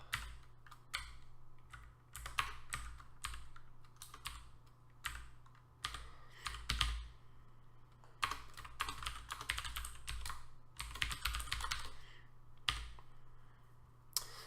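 Code being typed on a computer keyboard: bursts of quick, close key clicks with short pauses between runs, alone over a faint steady hum.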